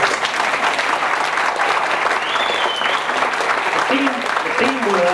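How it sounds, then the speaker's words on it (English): Guests at a golden wedding anniversary celebration give a loud, sustained round of applause, many hands clapping close by, with a few voices calling out near the end. "will verify that for me with a round of applause"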